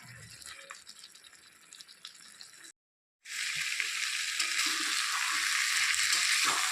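Chicken curry with chopped tomatoes stirred and frying in a pan, a continuous loud sizzle and rattle of the spoon that drops out briefly, then returns stronger and steady.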